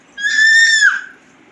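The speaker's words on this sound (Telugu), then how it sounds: "మా బాబు అయితే అరుస్తున్నాడు" A baby boy lets out one loud, drawn-out, high-pitched shout that bends downward at the end, close up and heard alone against a quiet room.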